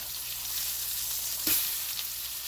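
Steak and bacon frying in a cast iron skillet on a stovetop, a steady close sizzle with one brief flare as a piece is turned, no voices.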